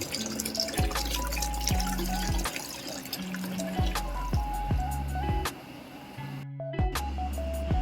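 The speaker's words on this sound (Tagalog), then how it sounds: "Buksan ang Sprite at ihalo din sa ating pitsil." Sprite soda poured into a pitcher holding a gin lemon cocktail, giving a steady glugging, trickling stream with repeated bubbling drops, close and moderately loud, with no talking.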